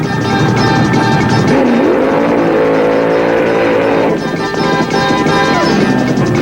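A 1974 funny car in a drag racing quarterfinal, the engine's loud rising roar shifting pitch as it accelerates, then dropping and climbing again, under a narrator's voice.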